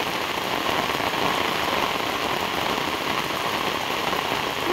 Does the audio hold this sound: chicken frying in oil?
no